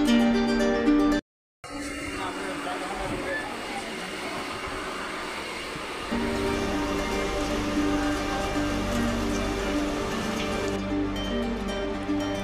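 Steady rain hisses outside Bishnupur Junction railway station after two days of continuous downpour, a constant wash of noise with tonal platform announcements and voices in the background.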